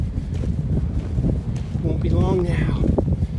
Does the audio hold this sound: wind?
yes